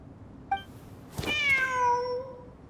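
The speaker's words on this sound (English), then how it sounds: "The cat!" A cat in Genshin Impact gives a short chirp, then a longer drawn-out meow that falls in pitch and fades, close and clear with no talking.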